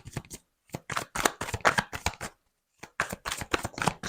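Oracle cards are shuffled and handled close up in quick bursts of papery riffling, with two short pauses and no talk.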